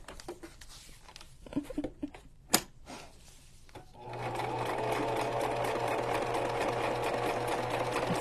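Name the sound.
sewing machine stitching paper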